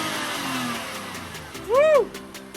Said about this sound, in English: We're gonna go ahead and start this engine up for you. And we're gonna rev it